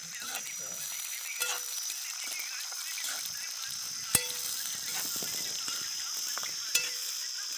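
Khichdi with biryani masala frying in a pan outdoors on a farm, a steady sizzle with occasional stirring scrapes and a few sharp clinks, and faint voices in the background.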